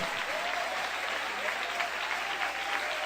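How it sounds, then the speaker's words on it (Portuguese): Steady, sustained applause from a church congregation, many hands clapping together in a dense, even wash, with voices faintly mixed underneath. "Palmas misturado com glória a Deus."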